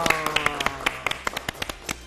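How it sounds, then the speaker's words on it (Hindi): Children clap during a Ramadan iftar television broadcast, with a dozen or so sharp, distinct claps in an uneven rhythm, close by and fairly loud. "तैयार हो जाओ, तालियां।"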